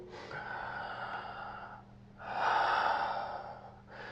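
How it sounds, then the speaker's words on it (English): Two long, deep breaths blow out through the mouth during a Bowspring yoga session, each a full airy exhale, close and alone, with a short pause between them and a third breath starting at the end. "2 cycles through your mouth. Breathe fully."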